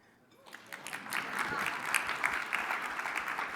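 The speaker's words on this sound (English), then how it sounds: "I'm gonna give you a minute to applaud for that." A breakfast plenary audience at a mayors and business leaders meeting breaks into applause, swelling from near quiet into dense, steady clapping that holds loud for several seconds.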